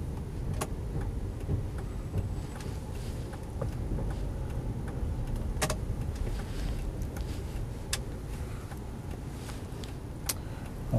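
A Subaru Forester 2.0S turbo with automatic gearbox runs steadily, its low engine hum constant, with scattered sharp clicks and ticks over the top and no talking.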